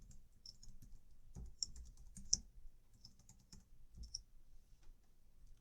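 Computer keyboard keys clicked while entering a password, a run of light, irregular taps with a few sharper strokes, close and fairly quiet with no talking.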